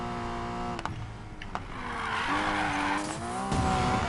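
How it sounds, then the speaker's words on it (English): A Porsche Cayman sliding under handbrake in Need for Speed Payback, engine droning with shifting pitch as the revs rise and fall, tires squealing through the slide, loud and continuous. "We'll slide there with a handbrake."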